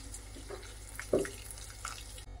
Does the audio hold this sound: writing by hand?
no